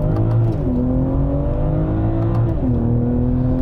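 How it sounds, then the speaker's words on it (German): A BMW M440i Coupé six-cylinder pulls away from a rolling start on a country road, its engine note climbing steadily through the revs, easing briefly at a gear change and then rising again, loud and close throughout. "beschleunigen gleich mal manuell geschaltet aus dem Stand, der rollende Stand"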